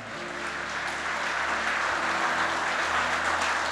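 A church congregation applauding during a sermon, a faint, continuous patter of clapping filling the room at a distance, with a low steady hum beneath it.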